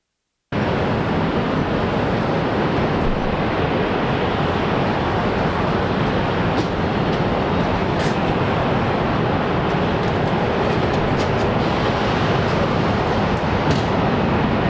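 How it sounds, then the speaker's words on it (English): An airliner rolls and lifts off runway 19 right at Brisbane Airport, a steady loud broadband roar that holds evenly throughout, close and continuous with no voices over it. "runway 19 right, clear for takeoff"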